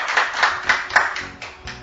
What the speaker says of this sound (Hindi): एक बार जोरदार ताली से स्वागत सुनील शर्मा जी।